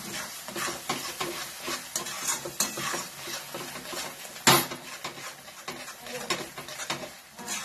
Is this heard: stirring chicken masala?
yes